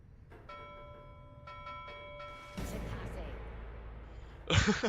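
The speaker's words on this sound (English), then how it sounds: "Oh, you just keep right on ringing that bell" In the game Pyre, a nautical bell rings repeatedly with several clear, ringing strikes in quick succession, followed by louder game noise and a voice.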